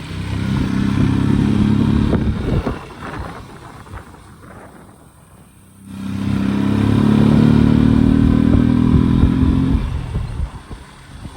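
A motorcycle engine rumbles loudly as it rides along a road in Palpa, Nepal, with wind buffeting; the noise dips briefly midway, then swells back up.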